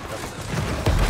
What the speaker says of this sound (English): Who the fuck is setting off fireworks?